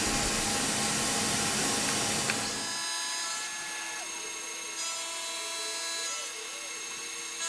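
A milling machine squares the top of an injection mold block, a loud high-pitched cutting whine that drops away near the three-second mark into a quieter spinning hum with faint ringing tones.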